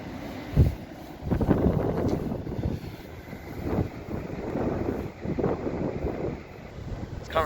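Strong coastal wind at Burry Port, South Wales buffets the microphone in rumbling gusts, loud and continuous, with faint background noise throughout.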